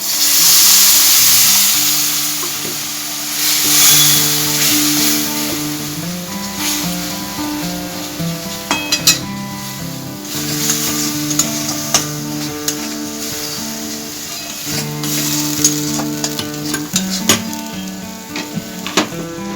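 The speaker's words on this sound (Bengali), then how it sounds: "এরপর সব উপকরণগুলো আমি আরও ভালো করে ভেজে নিচ্ছি মশলাটা খুব সুন্দর করে কষিয়ে নিয়েছি" Spice paste with pointed gourd fries and is stirred in a pan, a continuous sizzle with scattered utensil clinks and scrapes, close, beneath soft background music.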